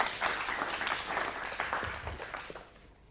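An audience applauds steadily at a science talk by the UK's first astronaut, the dense clapping holding for about two and a half seconds before fading out.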